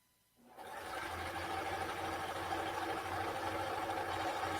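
A cover stitch sewing machine starts up and runs steadily through fabric, a close, continuous whirring hum with a low motor drone that holds for several seconds.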